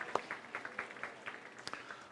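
Sparse, faint clapping from a church congregation, scattered individual claps spread irregularly across a quiet room.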